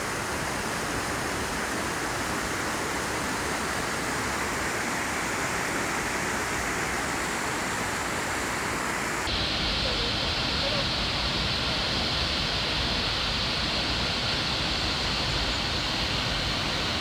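A waterfall at the end of a strenuous hiking trail in Oregon roars steadily and close by, a dense rushing wash with no voices, its tone shifting abruptly partway through.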